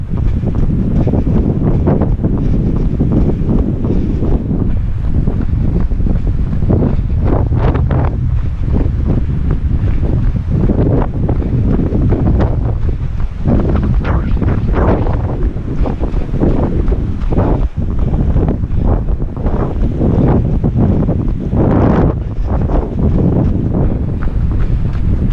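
Strong wind buffets the microphone throughout a triathlon run along the Durance dike at Embrun, a loud continuous roar with gusty surges and no talking.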